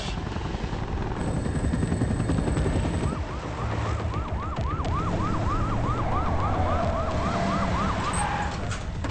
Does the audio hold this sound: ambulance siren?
yes